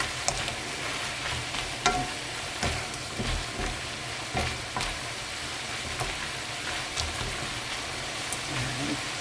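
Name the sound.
stir-frying radish namul with tuna fish sauce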